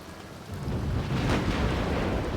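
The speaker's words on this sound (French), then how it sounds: "Vous allez vous prendre l'orage" A thunderstorm in The Sims 2 rumbles as a deep, broad roll of thunder swelling over steady rain noise and holding at moderate loudness.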